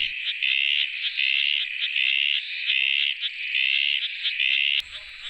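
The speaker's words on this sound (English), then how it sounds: "This male desert tree frog seems to have attracted the attention of a female." A male desert tree frog calls in a steady, high-pitched trilling buzz, loud and close, repeating in long pulsing bursts with brief gaps, then stops abruptly near the end.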